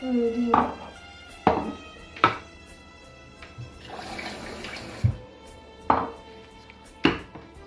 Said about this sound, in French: il faut mettre 2 verres d'eau, bien sûr